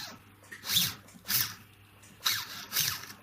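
A heart burr cuts a stone seat into a diamond wedding ring, heard as four short, close, high-pitched whirring bursts separated by brief pauses.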